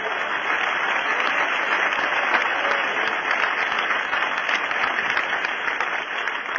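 A congregation at a Portuguese-language church sermon applauds in a steady wash of dense clapping that lasts throughout, with no voices over it.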